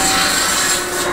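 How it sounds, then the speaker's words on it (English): A Japa 700 firewood processor's 700 mm belt-driven circular saw blade slicing through a log, a brief, loud, dense rasping cut with a steady roar. "700 millimeter circular saw blade. A really quick cut."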